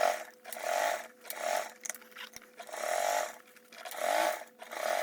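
A sewing machine top stitches an insulated tote bag with an eighth-inch seam allowance, running in steady whirring bursts that speed up and pause in a rising and falling rhythm, fairly quiet and up close.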